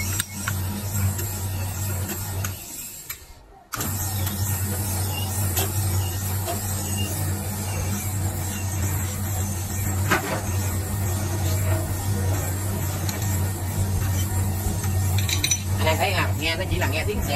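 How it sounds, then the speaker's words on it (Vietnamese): A honing stone scrapes inside an engine cylinder, producing a continuous gritty, whirring rasp over a steady low motor hum, close and loud, with a brief break near the start. "Nó chỉ là nghe tiếng xẹt xẹt xẹt của cái đá thôi."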